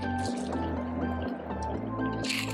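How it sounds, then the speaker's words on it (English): Liquid pours and trickles steadily into a cup up close as a shaken cocktail of orange and cranberry juice is strained, with a few soft clinks and splashes along the way. "Strain it into the cup."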